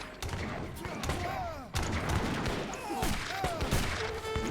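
Musket volleys crackle through a busy Age of Empires III battle, overlapping shots and thuds sounding at mid distance, with brief chirps and a short break partway through.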